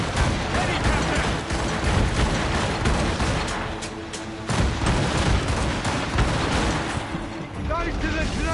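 Cannon volleys boom repeatedly during a naval battle in Assassin's Creed Rogue, a dense, loud barrage of overlapping blasts and rumble with mechanical clatter, over busy game sound and shouted voices.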